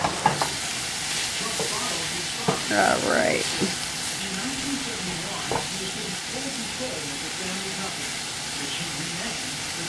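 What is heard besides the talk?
stir-frying frozen broccoli and peas with rice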